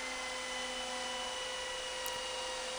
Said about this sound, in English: Now I can finally finish the sanding of the ring.